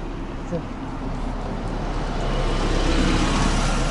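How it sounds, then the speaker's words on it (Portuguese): A bus drives past on a London street, its engine roar and road noise building steadily to a loud, close peak toward the end over broad traffic rumble. "E já vai o autocarro."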